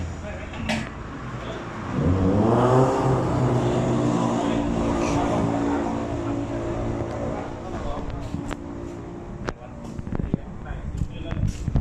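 Ride-on rice tractor engine running steadily as it is loaded onto a truck, a loud harmonic motor drone that revs up after a quiet start and holds for several seconds, with voices talking over it.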